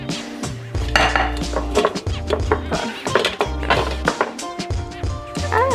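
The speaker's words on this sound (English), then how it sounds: "now we're gonna do our best to just flip this cake onto a plate" A vegan, oil-free chocolate cake is flipped out of a greased cake pan onto a plate, with a busy run of close clattering pan and dish knocks and scrapes, and a soft tonal background throughout.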